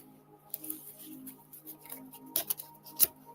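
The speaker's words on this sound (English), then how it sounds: "One more shuffle." Soft riffling and snapping of oracle cards being shuffled, a few quick bursts near the end, fairly close with no talking.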